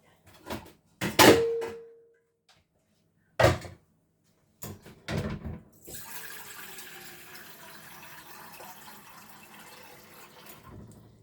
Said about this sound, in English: now I want water, don't I?